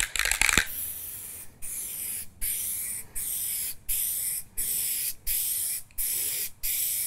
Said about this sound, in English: And lastly, our muffler black paint.